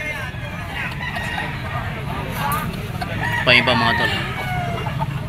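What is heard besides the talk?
stag roosters for sale crowing and clucking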